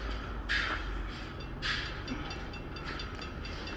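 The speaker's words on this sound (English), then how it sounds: "the fucking train's coming." A train rumbles steadily close by, with a low continuous roar and periodic hissing bursts of rattling metal over the top.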